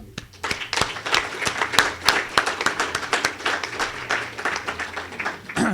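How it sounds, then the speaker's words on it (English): Audience at a 2014 Citizens For Milford candidates forum giving a round of applause, individual claps sharp and close amid steady clapping that lasts the whole stretch. "Give yourselves a round of applause for attending this"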